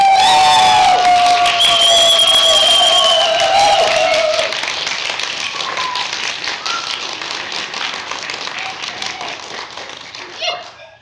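A festival audience at an amateur theatre event gives the actors a big ovation: loud cheering, shouts and whoops over dense clapping at first, settling into sustained applause that fades toward the end.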